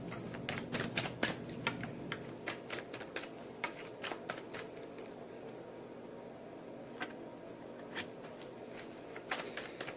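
Tarot cards being shuffled and drawn, with a quick run of crisp, close riffling snaps and taps early on that thin out into scattered single flicks over quiet room tone.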